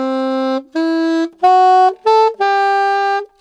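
Alto-style saxophone plays the opening phrase of a theme tune, five clean sustained notes with short breaks between them, the last held longest, loud and close with no talk.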